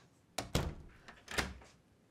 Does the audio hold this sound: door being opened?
yes